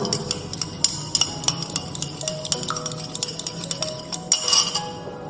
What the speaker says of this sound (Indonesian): selanjutnya kita masukkan minyak ke dalam air yang sudah dimasukkan tadi. Dan kemudian kita aduk.